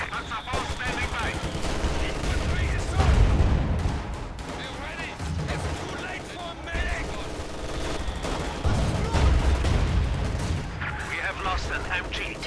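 Machine gun fire in Company of Heroes 2, with bursts of rattling shots and heavier booms swelling and fading across the stretch, mixed with in-game voices.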